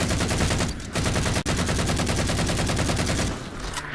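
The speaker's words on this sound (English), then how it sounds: "Guns also kind of sound different" Gunfire in the video game Halo 4 plays as a dense, continuous stream of rapid automatic shots, loud and close, with one brief pause in the middle and no talking over it.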